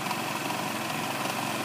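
A 2008 Lance Vintage 150cc scooter's small single-cylinder engine idles steadily at close range, a continuous buzzy drone with no change in pitch and no talk.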